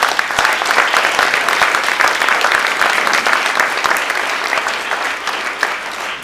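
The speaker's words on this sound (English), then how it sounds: "that deserves a round of applause" Sustained, loud applause from a dinner audience at the dedication of a Jewish Chabad center, steady dense clapping that fills the whole stretch and fades slightly toward the end.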